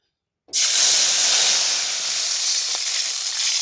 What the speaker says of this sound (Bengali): এবার কড়াইতে যে তেল রয়েছে সেই তেলের ভিতরে দিয়ে দেবো আমি জল।